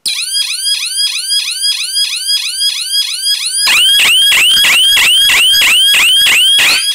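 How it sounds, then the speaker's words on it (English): A loud, piercing electronic siren from a DIY motion sensor alarm kit warbling in rapid repeating sweeps, muffled at first by a covering hand and then suddenly much louder and harsher. "I'm going to cover the siren because it's so loud."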